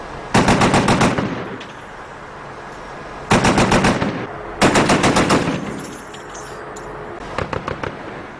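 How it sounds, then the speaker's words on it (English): Machine guns, including 240s and a .50 caliber, firing at night from a remote fire base near the Afghanistan–Pakistan border: loud rapid bursts of several seconds each, separated by pauses, with a shorter, fainter burst at the end. "American gunners laid into suspected Taliban positions."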